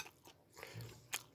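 Soft, close chewing of frozen Chicago-style pizza, a few quiet bites and crunchy mouth sounds with a sharper crunch near the end, no talking.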